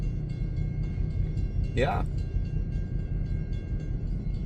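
An SD40-2 diesel locomotive, ELS 501, that is leaking water rumbles past nearby in a steady, heavy drone that continues throughout, with a brief spoken word partway in.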